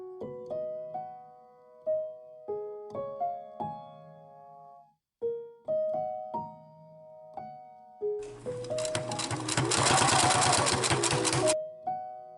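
Sewing machine stitching a 1916-style undergarment, heard as a long, loud continuous burst of rapid mechanical stitching near the end, with melodic music playing throughout.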